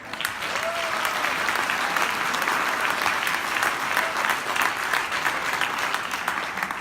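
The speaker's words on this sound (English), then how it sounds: "I want to ask everyone here to give yourselves a big round of applause" Audience applause at a 2019 Neighbors on Call kickoff event, a full, steady roar of many hands clapping with scattered cheers, sustained at an even level throughout.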